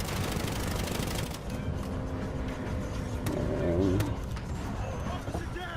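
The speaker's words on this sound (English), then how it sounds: "We actually have a car behind us right now." A pursuing car's engine roars in a Battlefield Hardline Hotwire match, with gunfire bursts and game effects layered over a continuous rumble that swells and fades, heard up close with no clear talk.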